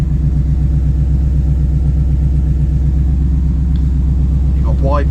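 A 1967 Chevrolet C10 short bed Stepside engine idling while still cold, a loud, close, steady throbbing rumble with even pulsing, and a voice speaking briefly over it.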